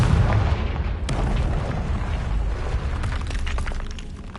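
The Confringo explosion spell in the video game Hogwarts Legacy gives a loud, close blast with a heavy rumbling boom that sustains and fades slowly over several seconds.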